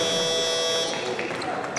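At a 5x5 basketball game between Putrajaya and PDRM, the halftime buzzer sounds as a sustained electronic tone that cuts off partway through, followed by arena noise and commentary.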